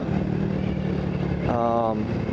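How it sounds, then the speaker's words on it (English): A Honda Cub motorcycle engine hums steadily while riding along a road near Yangpyeong, Korea, then revs up briefly with a rising whine partway through, under breezy road noise. "driving this Honda Cub, it reminds me of my S2000. Very high revving"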